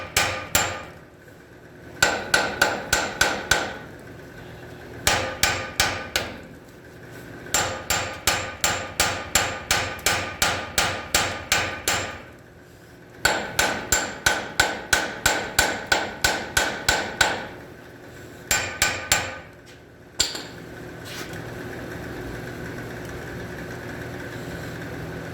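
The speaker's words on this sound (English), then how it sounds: "First thing I'll try to do is shock that rust into breaking loose." Hammer blows rain on rusted bolts of a Ford F150 to shock them loose, sharp metallic strikes in quick bursts of about ten to fifteen with short pauses between, loud and close, ending in a steady hum.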